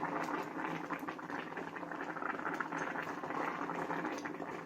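Steady bubbling of a pot of greens at a rolling boil, continuous and moderately close, with no voices.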